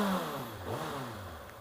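A stock-exhaust 2019 Kawasaki ZX-6R sits in neutral and revs, its engine note rising and falling in a continuous mid-pitched drone, close by and fairly loud.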